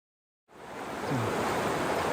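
Water from the Toxaway River pours into a lake, a steady, broad rushing roar that starts abruptly and holds constant, heard fairly close with no voices.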